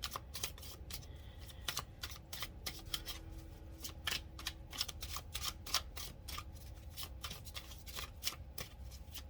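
A deck of tarot cards is shuffled by hand, producing repeated crisp riffling bursts and soft slaps at an irregular rhythm, close and fairly quiet with no talking.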